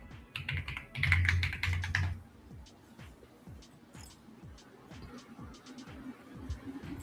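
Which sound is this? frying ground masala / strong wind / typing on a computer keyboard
typing on a computer keyboard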